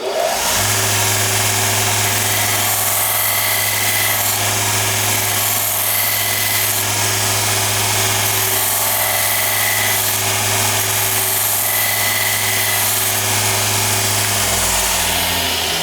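A grinder shapes a wooden handle for a forged hammer, giving a loud, continuous, even motor hum with a steady grinding hiss over it from start to finish and no talking.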